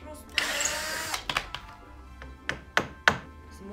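Several sharp hammer blows strike at uneven intervals, close and crisp, after a short burst of scraping noise, while assembling a homemade backlight panel.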